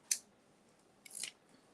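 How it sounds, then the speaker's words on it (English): Scissors cut out a small paper vintage-style sign for a Christmas snow globe craft, giving two quick, crisp snips in a quiet room with a short pause between them. "So I'm just going to cut that one out."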